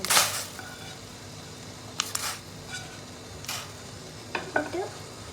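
Long-cut potato strips fry in a pan for a Chinese-style crispy potato roast, a low steady sizzle broken by several sharp scraping and clattering strokes from stirring.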